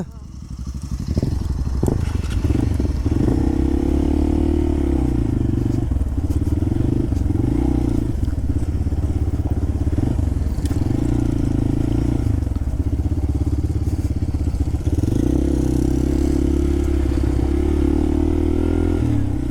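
A motorcycle carrying two riders travels off-road through a forest, its engine droning loud and close with repeated swells in revs, alongside rattling and clatter from the rough track and occasional voices.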